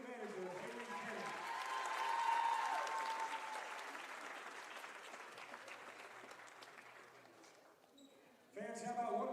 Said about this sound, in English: how about one more round of applause for the BC women's basketball senior class 24-25